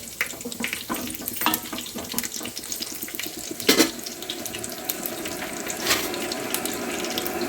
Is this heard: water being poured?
yes